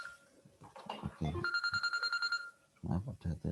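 A telephone rings during a university lecture on logic circuits, giving a repeated electronic trill for about a second. Speech from the lecturer comes before and after it.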